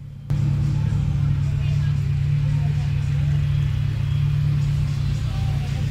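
A Ford Capri RS on a classic car rally rolls past with a steady, loud low engine drone that holds level for several seconds, with no clear rise or fade.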